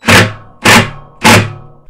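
Three sharp thunks spaced about half a second apart, loud and close, as a dowel pin on an LG Waveforce washing machine clutch hub assembly snaps into place.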